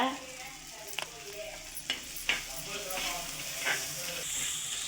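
Onions sizzle softly in a hot pan with a pinch of turmeric while a spoon scrapes and stirs a few times, with a faint voice in the background.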